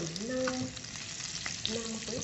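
Red chilies fry in hot oil for sambal, giving a steady, close sizzle with light stirring noises and no voices.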